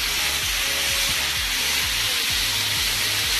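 Chicken feet frying with masala in a pan, a loud, dense, continuous sizzle with a steady hiss and faint rhythmic low thumps underneath.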